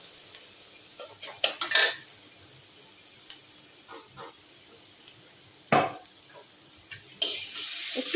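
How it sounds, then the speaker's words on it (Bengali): Spice paste sautéed and stirred in a kadai for a one-pot dal with vegetables, with a few scattered scrapes and clinks of the spoon against the pan over a faint, steady sizzle. "মশলাটা একটু কষে নিচ্ছি।"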